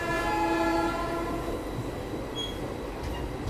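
A train reversing at a station, led by a WAG 5 electric locomotive from the Ratlam shed, gives a steady rumble with a sustained horn-like tone, faint squeals and continuous rail noise.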